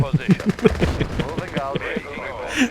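Rapid bursts of gunfire from infantry and tanks in Red Alert 2, sharp repeated shots in quick rhythm with an excited voice talking over them throughout.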